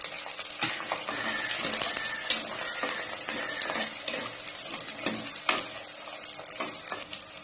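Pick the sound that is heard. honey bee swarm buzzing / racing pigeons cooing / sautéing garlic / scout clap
sautéing garlic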